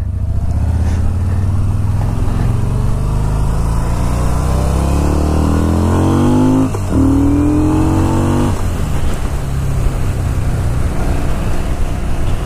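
Yamaha Bolt C-spec motorcycle engine on a test ride, a loud steady drone that rises in pitch as it accelerates, dips briefly at a gear change, then settles lower.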